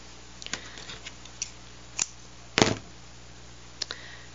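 Scissors snip through knitting add-on yarn in a few sharp, close clicks, with one louder cut near the middle and scattered lighter snips around it, no voices.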